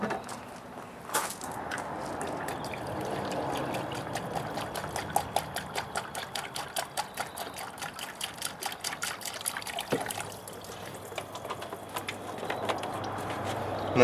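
Distilled water poured into the cooling system of a VE Commodore after a timing chain replacement, a steady trickling stream running continuously at close range with no talk.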